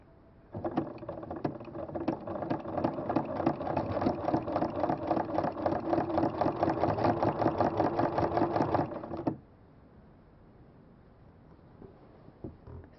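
A sewing machine fitted with a ruffler foot stitches fabric for a pillow, running at a fast, even, rhythmic chatter for about nine seconds before stopping, leaving quiet room noise.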